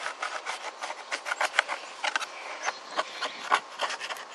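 Hand scraper rasping old sealant off a camper roof, a steady run of short, close scratching strokes with brief louder scrapes and no talking.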